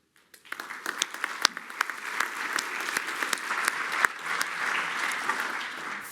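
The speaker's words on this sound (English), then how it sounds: "I'm not sure if you could hear the applause, but it was roaring" Roaring audience applause after a conference presentation at an industry insights event, dense sustained clapping with sharp individual claps standing out, rising after a brief quiet start and holding loud to the end.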